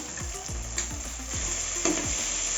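Carrots, beans and peas sautéing in masala sizzle steadily in a pan, with repeated scraping stirs of a spoon every half second or so, close and moderately loud with no talking.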